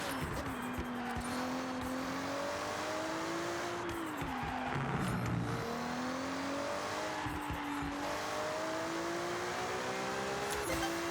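A car engine in Forza Horizon 6 revs up and down through gears over several racing laps, with shifting pitch, short tire squeal and steady loud drone throughout.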